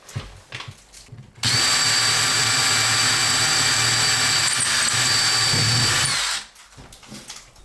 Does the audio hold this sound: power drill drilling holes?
yes